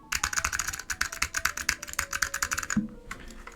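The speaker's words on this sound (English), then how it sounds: "So you can kind of hear what these switches sound in two modern keyboards, a polymer keyboard and a metal keyboard" Rapid typing on a SwagKeys Transition Lite polymer-case keyboard fitted with Alps switches: crisp, close keystrokes in quick irregular bursts, ending with a few slower presses.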